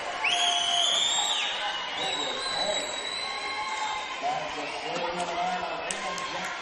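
A volleyball crowd, mostly Glendale Gaucho fans, cheers and whoops in an indoor gym during a national championship match, a broad, sustained roar with shrill whistles and squeaks rising through it, mixed with an announcer talking.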